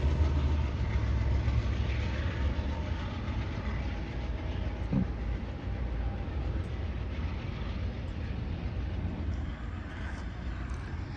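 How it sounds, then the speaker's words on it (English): Steady rumbling of Amtrak Texas Eagle Superliner sleeping and coach cars rolling past close by at Joliet, Illinois, a continuous broadband roar with faint rhythmic clatter throughout. "A Superliner sleeping car, Superliner coach."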